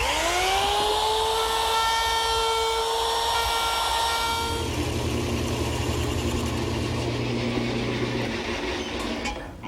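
A power tool trims the faces of tiger maple washstand parts, spinning up with a rising whine, then grinding steadily and loudly through the wood before a low hum takes over and it winds down.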